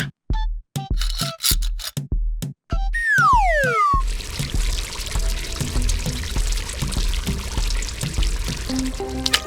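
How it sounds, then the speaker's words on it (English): Cartoon fuel leaking from a gas station hose, a run of separate drips and splashes followed by a rising whistle-like tone, then a steady, continuous pouring and splattering of liquid onto concrete that stays fairly loud. "The fuel hose leaks. Drops of fuel fall onto the concrete, forming a spreading puddle."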